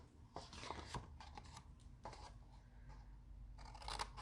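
Scissors snip through cardstock for a Stampin' Up! tea and cookie treat box, giving several short close cuts in an uneven rhythm over a quiet room.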